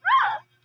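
One of a litter of puppies lets out a single short, high whimpering yelp close by, followed by quiet.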